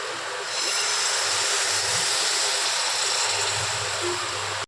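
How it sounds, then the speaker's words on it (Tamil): Tamarind water pours steadily into a pan for fish curry, a broad, continuous hiss and splash, close and fairly loud, stopping abruptly at the end. "புளி தண்ணி ஊற்றிக்கலாம்."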